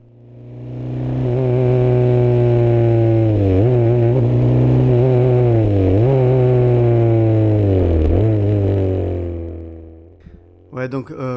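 A Formula 3 race car at the Paul Ricard circuit revs hard and climbs up through the gears toward sixth, its loud, steady engine tone rising and then dropping briefly at each upshift, heard close from inside the cockpit.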